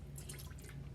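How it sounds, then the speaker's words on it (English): Fragrance oil drips and trickles into melted wax in a pot, a faint, brief liquid patter of a few soft drops close by. "So let's go ahead and pour in our fragrance."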